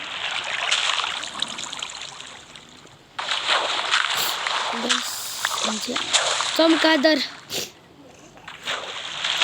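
Water splashing and sloshing as a character swims in a block-building video game, in bursts of bright, close splashes with a few short gaps, while players talk over the top throughout.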